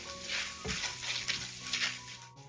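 Toor dal frying in a pan is stirred, giving a soft continuous sizzle with gentle scraping strokes, fairly quiet and close.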